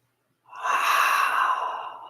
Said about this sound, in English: deep breath in, hold, slow breath out, hold